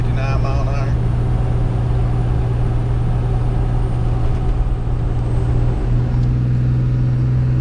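A Ram 2500 pickup with a 5.9 Cummins diesel and 48RE transmission pulls a heavy 20,000-pound trailer uphill at about 2400 RPM in third gear, a steady droning hum throughout, with someone talking over it.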